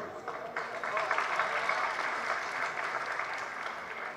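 Audience applause breaks out during a Jain religious sermon by Acharya Vidyasagar, a dense, steady clatter of many hands clapping that sustains evenly for several seconds with no voices over it.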